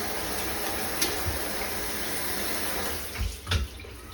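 Water streams steadily from a newly mounted shower head in a bathroom, a constant close hiss, with a couple of brief knocks near the end.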